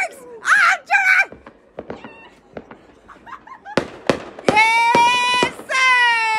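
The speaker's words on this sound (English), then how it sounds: "Oh, there's the fireworks!" New Year fireworks bang in a series of sharp, loud bursts close by, with high excited voices shouting and squealing around them.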